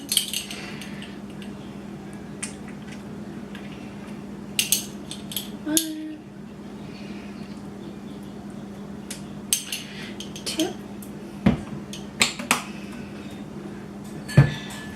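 A measuring spoon clinks and clatters among dishes while Dijon mustard is measured for a glazed ham, with scattered sharp metallic taps and knocks over a faint steady background hum.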